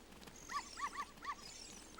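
A dog in the Nintendo 64 game The Legend of Zelda: Ocarina of Time gives several short, clear yips or barks in an irregular rhythm, close and moderately loud over a quiet game background.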